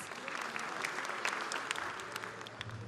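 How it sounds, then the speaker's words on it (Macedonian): Audience applause at a republic festival of songs, music and dance, a dense sustained clapping from a crowd at moderate distance, without talk over it. "Да ги поздравиме и нив со аплауз."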